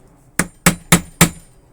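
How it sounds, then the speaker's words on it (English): A wooden maul strikes a copper rivet and burr to set it, four sharp, close knocks spaced evenly a little under a third of a second apart, each ringing briefly before fading. "do not use a metal hammer on this, you'll damage your tools. So I'm using just my maul"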